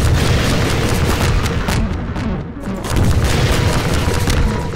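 Rocket explosions striking striders in Half-Life 2, loud continuous booming and rumbling blasts with a short dip in the middle before the roar swells again, no talking.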